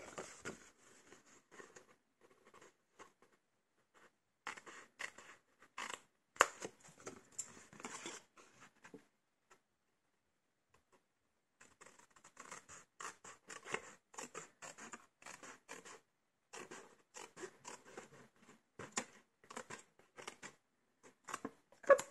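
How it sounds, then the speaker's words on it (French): Scissors snip through thin paper while a diagonal box is cut from Gavottes wrappers: quiet, close cuts in irregular bursts, with a silent pause midway before a denser run of snips. "Je vais également couper de l'autre côté."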